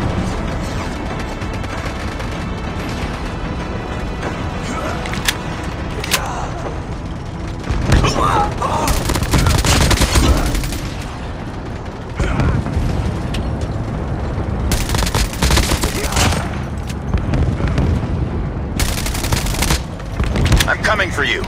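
Artillery and gunfire fill a Call of Duty Mobile match: rapid automatic bursts, heavy booming blasts and scattered shots that grow denser and louder in waves, with in-game voices speaking over the battle.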